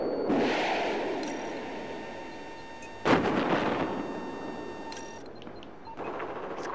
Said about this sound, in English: Missile attack ready to deploy.